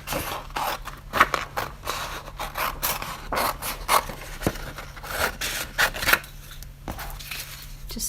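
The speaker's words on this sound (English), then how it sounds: "So, let me just roughly cut these." Scissors roughly cut paper craft pieces in a run of quick, close, crisp snips and scraping paper rustles, with irregular pauses between cuts.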